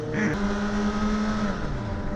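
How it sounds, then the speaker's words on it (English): Loud sport motorcycles, a Suzuki GSXR 750 and a Honda CBR1000RR, riding in traffic, a close, continuous engine drone with a rising then falling pitch, loud throughout and without talk. "These boys' bikes is super loud for real."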